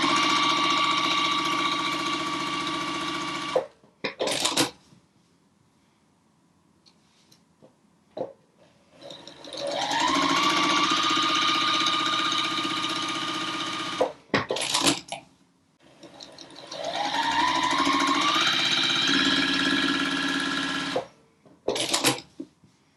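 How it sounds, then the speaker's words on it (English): A sewing machine stitches quilt fabric for a Bright Side quilt block, running a quarter inch beside a drawn line in three long steady bursts, each winding up to full speed, with brief clicks and handling noises between runs. "We're going to take this to the sewing machine and sew 1/4 of an inch on either side of that line"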